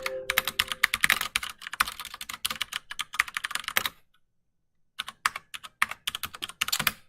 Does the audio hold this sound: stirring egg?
no